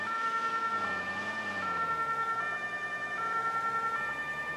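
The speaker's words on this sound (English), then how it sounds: "But in this game, they like us to use lights and sirens." An emergency siren in the video game Notruf 112 wails continuously with a rising and falling tone, steady and fairly loud, over a low engine hum.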